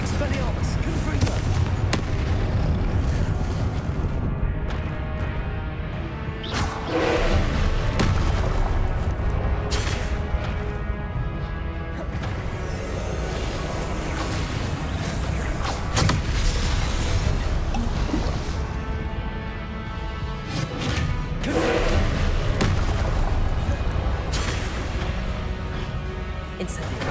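Repeated booming spell blasts and crackling impacts from the Confringo explosion spell in the Hogwarts Legacy video game, dense and continuous over a busy combat mix with music-like tonal layers throughout.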